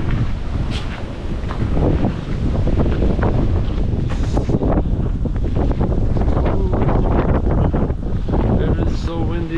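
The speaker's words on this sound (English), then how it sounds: "It is so windy." Strong wind buffets the microphone in loud, continuous gusts at a Connecticut castle state park, roaring and rumbling throughout.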